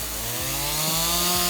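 Chainsaw running loud and close, its engine pitch dipping each time the blade bites into stacked cedar siding planks, three cuts in quick succession.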